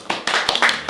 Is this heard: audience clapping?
yes